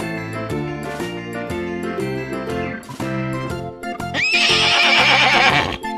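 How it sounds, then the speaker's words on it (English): A horse neighs and whinnies loudly up close in a long, shrill, quavering call, set over a bouncy children's tune with jingling accents. "Horse."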